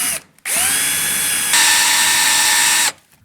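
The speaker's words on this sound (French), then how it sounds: "Je me suis muni donc de ma perceuse et de ma mèche de 12. Je vais pouvoir donc venir retirer ce rivet." A power drill with a 12 mm bit bores out a rivet on a motorcycle clutch bell, a loud, steady high whine that rises in pitch partway through and then stops abruptly.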